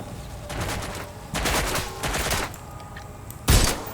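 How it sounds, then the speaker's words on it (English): Bursts of gunfire as people shoot, loud volleys of shots arriving in clusters with short gaps, ending in a sharp, heavy report. "They're shooting at us."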